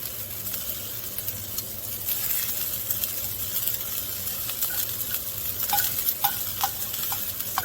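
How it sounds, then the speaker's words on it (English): Asparagus and tomatoes sauté in a pan, a steady low sizzle with clinking and scraping as they are stirred and moved around, close by and without talk. "Just trying to move our asparagus around."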